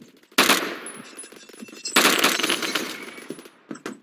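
Gunfire in the video game Phantom Forces comes in two sharp automatic bursts, loud and close, rattling rapidly and trailing off between volleys, with a few isolated shots near the end.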